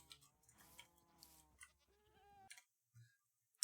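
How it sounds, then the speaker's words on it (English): Minecraft goats bleat in a few short, wavering cries, close and fairly quiet, separated by brief pauses and small clicks. "we have all of our goats down here"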